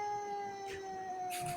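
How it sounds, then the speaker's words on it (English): A small dog howls faintly in the distance, a thin sustained wail beneath a steady tonal hum, with no talking. "He's howling."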